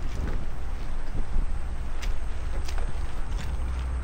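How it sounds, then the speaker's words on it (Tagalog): Strong wind gusts at a flooded spot during near-typhoon weather, a loud, steady roaring rush buffeting the microphone throughout, with low rumbling underneath and no speech. "Lakas ng hangin."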